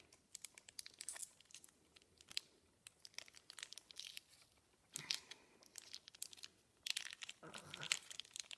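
Adhesive tape being pulled and torn in short crinkly bursts, close up and fairly quiet, with rustling of paper cards between the rips.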